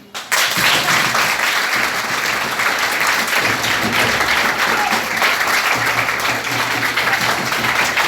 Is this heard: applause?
yes